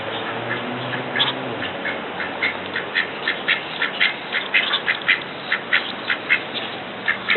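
Ducks quacking in a steady series of rhythmic, nasal calls, close and fairly loud, with no talk over them.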